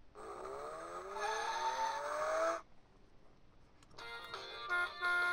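Engine effect from a VTech Go! Go! Smart Wheels toy hot rod: a loud electronic revving car sound with rising pitch lasting a few seconds, a brief pause, then another burst of engine-like noise.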